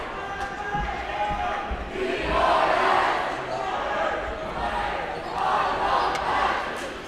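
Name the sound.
basketball game crowd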